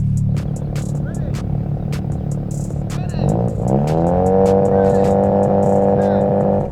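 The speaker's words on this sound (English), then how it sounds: "Here we go, Mazda RX-7 FD versus Ferrari 458 Spider." Mazda RX-7 FD and Ferrari 458 Spider lined up for a drag race, with a loud droning engine hum that rises in pitch as revs climb partway through, near and steady.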